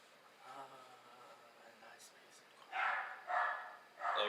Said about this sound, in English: That's just my dog barking like crazy.